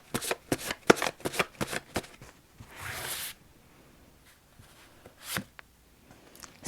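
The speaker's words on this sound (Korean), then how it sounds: "그럼 딸기님을 위한 조언 카드 한 장 뽑아보도록 하겠습니다." Tarot cards are shuffled close up: a quick run of crisp riffling snaps, then a longer swishing slide of cards and a few softer taps, with no talking.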